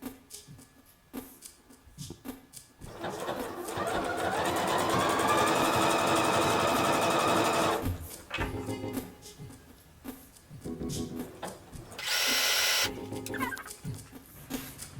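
A sewing machine stitches a straight seam around the edge of a stretch fabric sleeve, a close steady motor whir of about four seconds, then a short second burst after brief handling noises.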